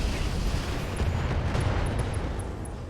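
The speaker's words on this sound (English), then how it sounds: "Firing all weapons." A mech in the game RogueTech fires all its weapons at a Gauss emplacement, giving a dense, continuous roar of booming blasts and rumbling low noise that stays loud and steady throughout.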